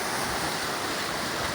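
Fast floodwater swollen by heavy rain rushes past in a steady, dense roar, close and loud, with no break or talk over it.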